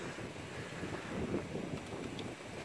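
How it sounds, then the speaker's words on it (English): A steady rush of wind buffets the microphone outdoors near a Syma X5UC quadcopter drone, with a low rumbling roar that holds throughout and never lets up. "Pretty windy out right now."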